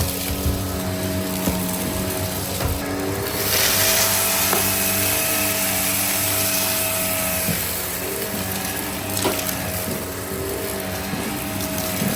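A Vax LiftOut Reach Pet upright vacuum cleaner runs continuously on carpet, a loud steady motor whine with a constant tonal hum and brief surges in airflow, alone without talk.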